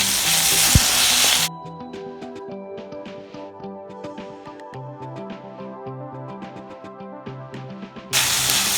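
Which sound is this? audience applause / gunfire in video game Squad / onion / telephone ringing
onion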